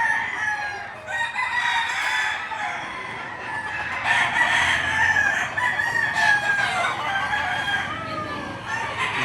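Chickens and roosters at a poultry market, with repeated crowing and busy clucking from several birds throughout, fairly close and continuous, with no talk heard.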